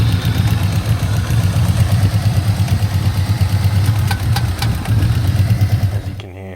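A VY Commodore V6 turbo engine runs with loose rockers, a steady low-pitched idle threaded with rapid ticking clatter, close and loud throughout until it cuts off near the end.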